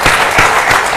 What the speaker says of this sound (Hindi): कृपया तालियां बजती रहें।